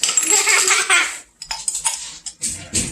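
A spoon clinks and scrapes against a container while scooping out pesto, giving a run of close metallic scraping and tapping sounds in quick bursts with short pauses between them.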